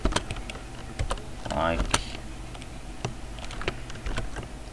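Keys clatter on a computer keyboard in quick irregular bursts while text is entered for a Visual Basic 2008 program, close and crisp, with a voice speaking briefly over the clicks.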